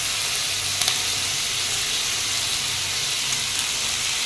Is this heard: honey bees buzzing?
no